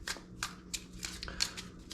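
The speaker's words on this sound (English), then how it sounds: "I'm gonna go ahead and just shuffle quickly" A deck of tarot cards is riffled by hand in several quick, crisp bursts of papery flutter and snap, close and fairly quiet, with no talking.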